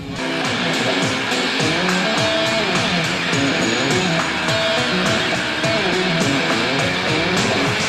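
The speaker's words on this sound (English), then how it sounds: "kids of all different ages are riding motorcycles like these." Kids race mini GP motorcycles around a track at a mini GP event, with a continuous buzzing, high-revving engine whine rising and falling as bikes pass close by.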